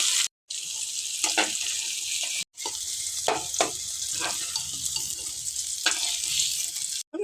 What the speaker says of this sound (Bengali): একটু লাল করে ভেজে নেব। বন্ধুরা দেখুন আমি লাল করে ভেজে নিয়েছি পনিরগুলোকে।